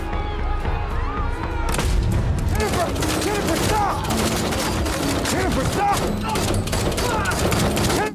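Gunfire erupts in a dark scene from the zombie drama The Walking Dead: World Beyond as a soldier fires on other soldiers, loud sustained bursts of shots and impacts over a dense mix of music and effects.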